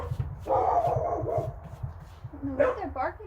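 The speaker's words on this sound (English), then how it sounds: "I don't know what they're barking at." Several dogs bark in short bursts somewhere indoors nearby, while a person talks over them during a painting job.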